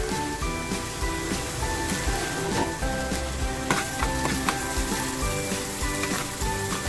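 Onion and asafoetida hit hot oil for a spinach and chickpea curry, giving a steady, dense sizzle with crackling spits throughout, close and even in level, no talk.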